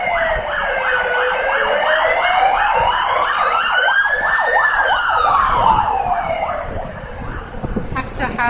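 A wailing emergency siren sweeps up and down repeatedly, loud and close, rising to a higher pitch midway before fading amid traffic noise.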